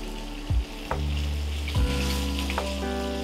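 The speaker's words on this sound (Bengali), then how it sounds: "মাছগুলো ভাজা হচ্ছে আর সাথে সাথে আমি উল্টে পাল্টে দিচ্ছি।" Fish frying in oil over a medium-high flame while being turned, a steady sizzle broken by a few sharp clatters and bumps as pieces are flipped, close and clear with no talking.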